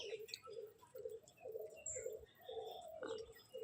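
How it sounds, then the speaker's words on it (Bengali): Pigeons cooing inside their coop, repeated soft rhythmic coos in a steady series, fairly faint, with a few higher chirps mixed in. "বুড়ো কাকা দেখো খোপের মধ্যে ঢুকে কীরকম ডাকাডাকি করছে"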